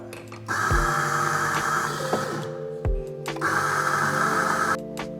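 An espresso coffee grinder, set a little coarser, grinds beans with a loud, steady motorized whir. The tone shifts briefly midway, and the whir stops abruptly near the end.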